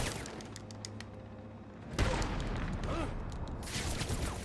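Bursts of gunfire from armed thugs in a Batman video game crackle in a noisy, continuous exchange, with a sudden louder volley midway through.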